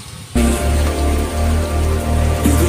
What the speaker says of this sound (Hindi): वर्षा हो रही है